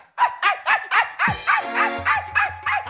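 A person imitating a dog barking, giving a steady run of about ten clipped, rhythmic woofs and yips, close and loud, with a lower tonal sound joining partway through.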